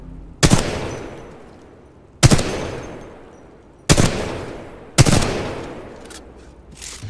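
Gunfire from a weapon in the Titanfall 2 video game: four loud, sharp single shots spaced unevenly over about seven seconds, each with a ringing decay tail, and no talking.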